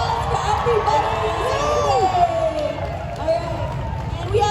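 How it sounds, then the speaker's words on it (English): At a Genshin Impact convention panel at Anime Impulse in Los Angeles, a crowd cheers and whoops with a wash of clapping, voices shouting over a dense, lively roar. "Let's give a round of applause for everybody."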